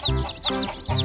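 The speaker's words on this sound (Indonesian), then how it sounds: "Lihat itu, 2 ekor ayam rainbow." Two rainbow-colored chickens clucking close and loud, three quick chirpy calls in a steady rhythm over about a second.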